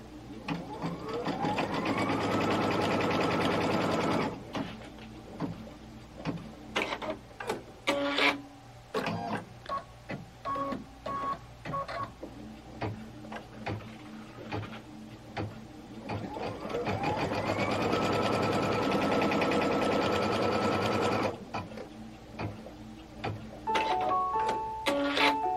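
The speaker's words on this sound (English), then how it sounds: "Stitch that down." A sewing machine stitches down a placement line on a Kimberbell Cup of Cheer project. Two long, steady runs of mechanical whirring are separated by a stretch of clicks and rattles from the machine and fabric.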